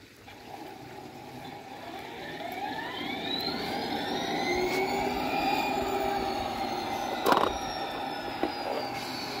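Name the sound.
RailPro model locomotive starting up and running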